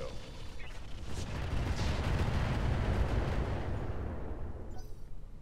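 A mech in Roguetech BattleTech fires everything at once, including lasers, Gauss and missile racks, making a sustained, rumbling barrage of blasts and booms that builds and holds for several seconds before trailing off.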